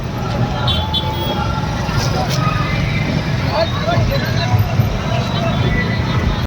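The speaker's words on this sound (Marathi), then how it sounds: "ही आहे पुण्यातली ट्रॅफिक" Busy city road traffic in Pune, India: a steady close roar of cars, buses and motorbikes with occasional horn toots and background crowd babble.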